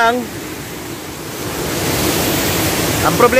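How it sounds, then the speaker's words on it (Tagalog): Limutan Falls, a waterfall in Bataan, gives off a loud, steady rushing roar, with a faint voice at the very start and end. "eto na yung Limutan Falls mga ka-adventure"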